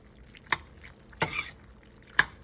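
Shrimp being stirred in a pan give three separate wet clicks and squishes about a second apart, close and fairly soft, with faint background hiss between them.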